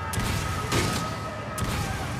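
Gunfire at an enemy in the video game Resident Evil 5, with several sharp shots ringing out over a dense, noisy game backdrop, close and fairly loud, no talk.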